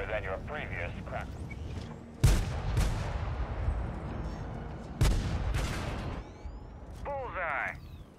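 Tank cannon fire in the World of Tanks Steel Hunter mode, two loud broadband blasts with rumbling decay a few seconds apart, among game sound effects and speech.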